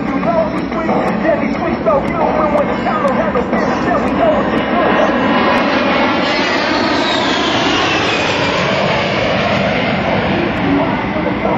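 A-10 Warthog jet flying at an air show, a loud continuous roar with a rising whine and a Doppler-like pitch sweep as it passes, with a commentator talking over it.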